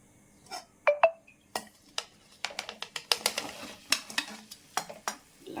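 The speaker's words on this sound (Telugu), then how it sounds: "దీన్ని ఇప్పుడు దీంట్లో బాండీలో వేసుకుందాం" Dry fruits and dates are tipped into a kadai and stirred, making a run of short, soft scraping and tapping knocks spaced irregularly, close up and fairly quiet, with no talking.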